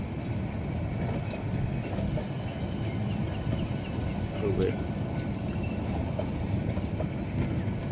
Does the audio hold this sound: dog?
no